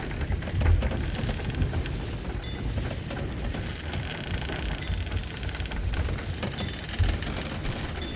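A video game storm with steady heavy rain drumming on surfaces and low rumbles of thunder runs continuously, loud and close, with no speech.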